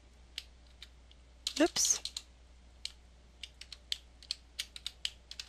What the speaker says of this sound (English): Go ahead and type in your name, and then type a closing bracket.